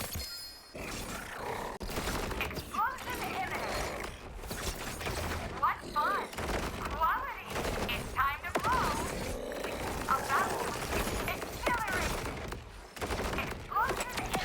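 A shotgun fires in a shooter video game, with repeated loud blasts and mechanical reload clatter every second or so, mixed with game effects and a voice talking over the action.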